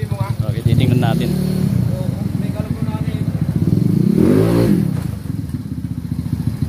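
Engine of a Yamaha Mio motorcycle, a 2006 model swapped with a Mio Sporty 2011 engine, running and sounding loud, a steady close idle rumble with a brief rev near the end, heard under continuous talking.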